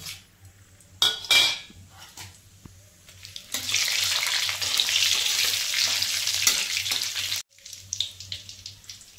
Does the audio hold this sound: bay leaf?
yes